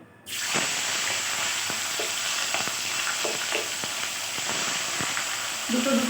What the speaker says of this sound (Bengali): আস্তে করে আমি মাছগুলোকে তেলের মধ্যে ছেড়ে দেবো